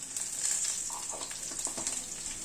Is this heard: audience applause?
no